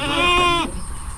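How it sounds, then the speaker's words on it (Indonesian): Small Javanese goat in a pen: one close, loud, wavering bleat lasting about half a second, followed by quiet background. "Campur ini udah ada kambing-kambing ini ya. Kambing Jawa kecil-kecil."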